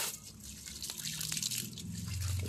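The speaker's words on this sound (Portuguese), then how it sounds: "agora eu vou pegar uma água ali e vou jogar nos dois escapamentos" Water from a hose splashes and trickles over rusty car exhausts, close and steady, building in volume toward the end with no talking.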